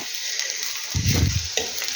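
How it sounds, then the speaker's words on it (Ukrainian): Eggplant slices frying in oil in a pan with onion, a steady close sizzle that swells as a fork shifts and turns the pieces, with brief clinks of utensil against pan. "Отак вилочкою пересуваю їх, перекладаю, щоб вони гарненько з цієї сторони обсмажилися."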